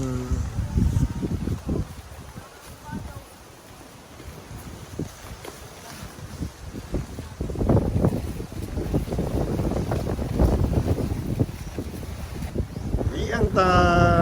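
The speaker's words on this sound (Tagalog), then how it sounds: "Grabe hangin, ah." Strong, gusty wind buffets the microphone at a cove beach in Nasugbu, Batangas, as a storm approaches, with rough waves and water noise rumbling beneath; the roar swells louder in the second half, and brief speech occurs.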